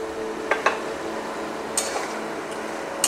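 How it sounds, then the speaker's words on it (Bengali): A spoon scrapes and knocks against a cooking pot while mushroom guguli curry is stirred, giving a handful of sparse, light clinks and taps over a steady background hiss of cooking. "ভালোভাবে এটা নাড়াচাড়া করতে হবে, ভালোভাবে কষিয়ে নিতে হবে।"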